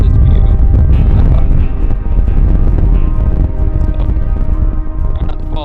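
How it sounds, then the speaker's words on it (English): Strong wind blows across the microphone on the uppermost part of a hilltop trail, a loud, continuous rumbling buffet with no speech. "It is super windy up here."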